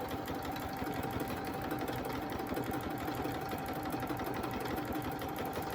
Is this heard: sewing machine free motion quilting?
yes